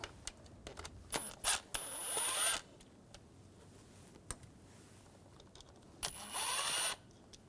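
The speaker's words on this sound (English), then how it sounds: "Using a T20 socket, take these two screws out." A T20 socket on a power tool backs screws out of the valve cover of a 2004-2009 Audi A4 Quattro 2.0L four-cylinder, two whirring bursts separated by scattered ticks and clicks, near and without voices.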